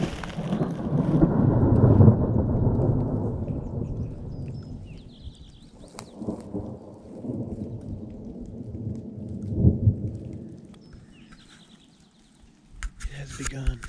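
A long rolling thunder rumble builds and fades during a thunderstorm in the Hammersley Wild Area, with a second swell later and faint rain patter near the end, heard outdoors with no talk.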